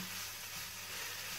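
Cheese being stirred into a sausage roll filling in a frying pan just taken off the heat, a soft steady sizzle and hiss with no talking.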